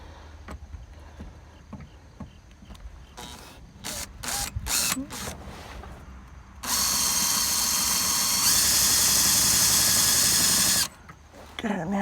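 A power drill bores a hole for sewer hose storage on an RV: several short bursts, then a long, loud, steady whine lasting about four seconds that rises in pitch partway before stopping, with quieter handling noise around it.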